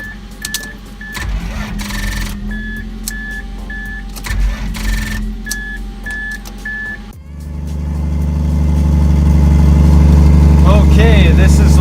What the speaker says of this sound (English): Hopefully that's enough juice to get this thing to crank.